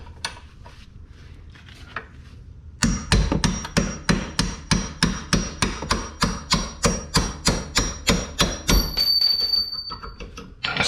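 A hammer strikes a chisel against the rear knuckle nut of a 2011 Lincoln MKS, a few scattered taps first and then a long, evenly paced series of loud, sharp metallic blows close by.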